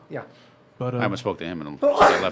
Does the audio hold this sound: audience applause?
no